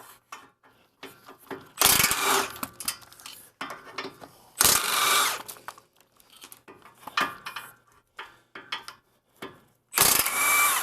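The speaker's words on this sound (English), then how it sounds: "Next, we'll remove, as I mentioned, the lower control arm, 3 nuts and bolts here" Metallic ratcheting and wrench clatter come from removing the three 17 mm lower control arm nuts and bolts on a 4th-generation 2012–2016 Honda CR-V AWD, in short bursts of clicking between louder clanking spells, close by.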